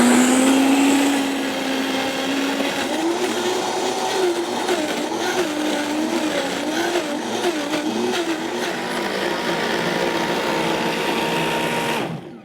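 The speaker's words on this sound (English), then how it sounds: "Put the blender in." A blender whirs through a thick raw-food mix thinned with coconut water. The motor whine is loud and continuous and wavers in pitch as the load shifts, running about twelve seconds before cutting off abruptly.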